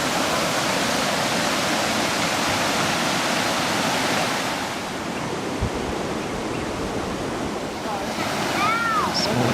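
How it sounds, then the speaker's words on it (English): A small waterfall on the Dulhunty River pours continuously in a loud, broad hiss, close by, with a brief faint voice near the end. "Small waterfall."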